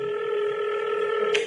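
A telephone dial tone, a steady electronic hum heard close and alone over a short stretch, ending with a brief click.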